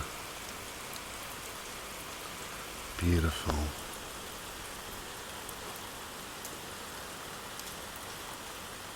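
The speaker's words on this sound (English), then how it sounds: "After a hot day, we are blessed with this cool, refreshing rain." Cool rain falls steadily after a hot day, a soft even patter that fills the background, while a voice speaks briefly midway.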